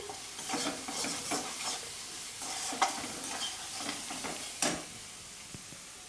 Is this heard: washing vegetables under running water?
no